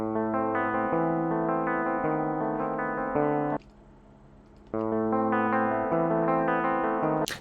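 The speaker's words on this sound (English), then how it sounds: "So that sounds like a guitar to me." An electric guitar, recorded direct through an audio interface, plays sustained chords with a chorus-like shimmer. The chords ring for about three seconds, stop briefly, then resume for several more seconds.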